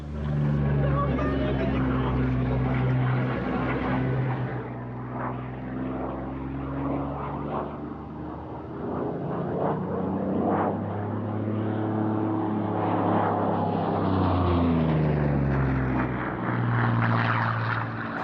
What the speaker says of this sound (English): There are 3 MiG-3s flying today